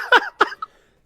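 A person sneezing: two quick, close bursts of breath followed by a short voiced trailing sound, then silence.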